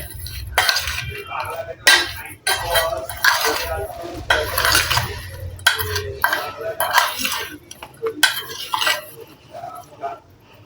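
Turmeric, coriander, Kashmiri chili and black salt being mixed in a bowl for drumstick pickle, with repeated close clinks and scrapes of a spoon against the bowl in uneven bursts, and a faint voice in the background.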